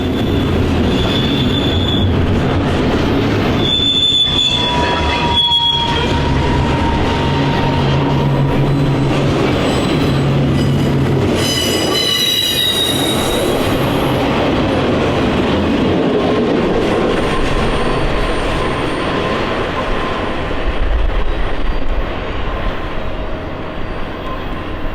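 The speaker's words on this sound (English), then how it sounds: "There, we caught our second train," An intermodal freight train rolls past in Utah, a loud, steady rumble of railcars with wheel squeal and ringing metallic tones, heard alone without talk.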